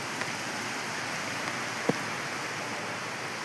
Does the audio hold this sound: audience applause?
no